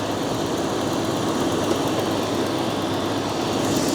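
An engine rumbles at a steady idle, a continuous low, throbbing drone that holds constant throughout without speech.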